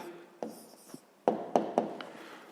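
Answer written by hand in a maths exercise, a few soft close pen strokes and taps on paper, quiet with short bursts toward the end.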